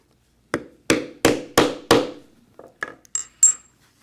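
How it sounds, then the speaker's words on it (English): Hammer strikes set rivets into a leather hatchet cover: five loud, evenly spaced blows followed by several lighter, sharper taps and a small metallic ring, with no talking. "we will continue with this assembly using rivets all of the way."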